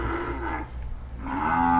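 Brahman cattle at a cattle market give two drawn-out moos, loud and close, separated by a brief pause, with no voices over them.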